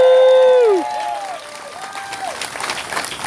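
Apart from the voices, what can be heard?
rally crowd applauding and cheering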